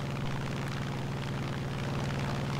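Grumman F8F-1 propeller fighter engine running at war emergency power in War Thunder, with an oil leak, a loud, steady, unbroken droning roar throughout with no talk.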